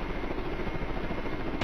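Steady whirring helicopter rotor in a Darkbasic tank video game, a continuous loud drone that holds evenly throughout and cuts off at the end.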